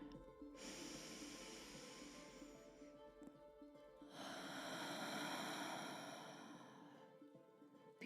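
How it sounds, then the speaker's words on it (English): Slow, deep breaths during a guided breathing exercise: two long, soft airy inhalations and exhalations, close and quiet, with no talking. "let's breathe together with me. Inhale."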